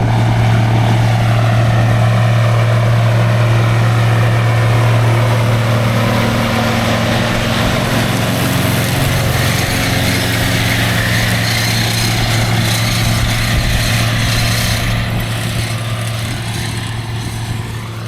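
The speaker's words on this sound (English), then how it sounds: "What an absolute beast of a tractor this would have been in 1988." A 1995 Case IH 7210 Magnum tractor engine runs steadily with a deep droning hum, loud and close, shifting slightly as it works over eighteen seconds.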